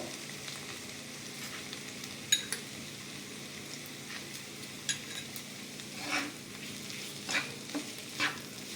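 Soft papaya cooked down in a pan is stirred together with sugar: a gentle, quiet sizzle runs underneath, broken by scattered scraping and clinking strokes of the spoon against the pan.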